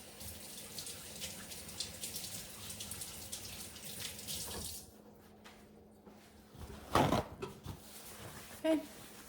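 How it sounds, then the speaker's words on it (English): Tap water runs into a kitchen sink while hands are washed, a steady rushing stream that cuts off midway, followed by a few splashes and clatters. "let me wash my hands."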